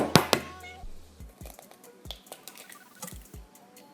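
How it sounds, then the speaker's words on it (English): Beaten egg and brown sugar for French toast are whisked in a bowl, giving a short run of light, irregular clicking taps and wet squishes, close and fairly quiet, with no voices. "I'm just gonna whisk that all together again."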